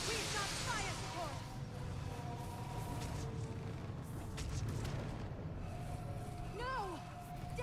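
Fire-support explosions in a Mass Effect 3 battle, a low rumbling barrage of booms running continuously under talking voices, fairly faint overall.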